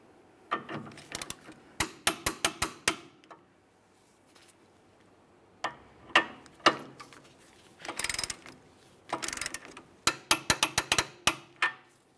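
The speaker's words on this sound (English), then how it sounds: "Now I'm going to torque these to 65 foot-pounds." A torque wrench tightens the sway bar link nuts on a 2013-2020 Ford Fusion, giving bursts of sharp, rapid ratcheting clicks separated by short pauses, close and clear with no talking.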